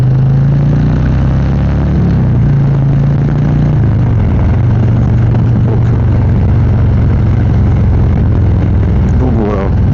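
Harley-Davidson Street Glide with an aftermarket exhaust cruising on a road around a lake: a steady, loud, deep engine drone under continuous wind noise, with a rider talking over it.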